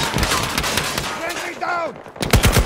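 Gunfire in the video game Battlefield 2042 crackles in close rapid bursts, mixed with game effects and a brief voice in the middle.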